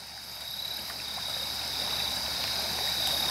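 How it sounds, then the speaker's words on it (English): A small woodland creek flows at night below a wooden footbridge, giving a steady, broad rush and trickle of moving water that holds even throughout, with no voices. "let's go check out the creek, Frog Creek"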